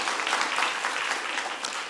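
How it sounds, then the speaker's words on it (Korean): A church congregation applauds steadily at a Korean service, with close, even clapping throughout. "박수 한번 부탁드리겠습니다."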